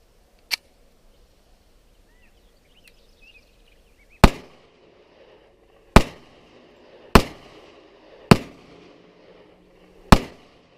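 A handgun fires five reloaded rounds after its feed ramps were polished: loud, sharp, close reports at uneven intervals, with one smaller pop a few seconds before them.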